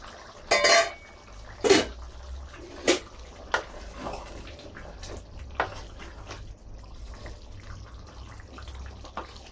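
A corn dish being stirred in a cooking pan, with a few sharp metal clinks and scrapes from the utensil at irregular intervals over a quiet background, close by.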